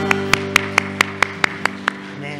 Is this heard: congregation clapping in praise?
yes